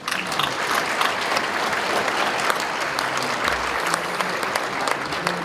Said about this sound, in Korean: 초인장님이 1시간 동안 선교사를 해서 박수를 쳐야 될 것 같습니다.